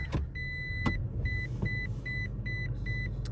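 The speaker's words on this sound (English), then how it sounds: "It beeps at you." A Ford Bronco's warning chime beeps repeatedly in a steady rhythm, short high tones over a low engine rumble.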